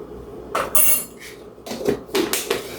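A utensil stirs butter biscuit dough made with Leite Ninho powdered milk in a bowl, giving several close clinks and scrapes in short bursts with brief pauses.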